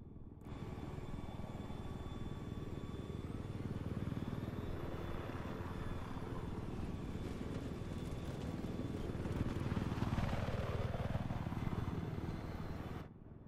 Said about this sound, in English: So you see me hop in the chopper, and I'm actually going to do a little flying